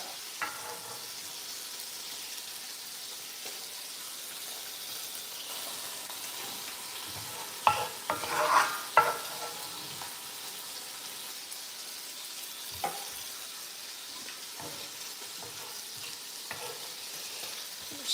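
Onions sizzling in a hot pan for braised beef, a soft steady frying hiss with occasional stirring scrapes and a few sharper clatters midway, close and with no talking.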